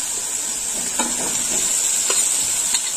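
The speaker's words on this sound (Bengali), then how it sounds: "এবার দিয়ে দেবো ভেজে রাখা আলু। তো আলুটাও কষবো" Previously fried potatoes sizzle steadily in a pan with frying poppy seeds for a tangra posto dish, with a few spatula scrapes and stirs over the constant hiss.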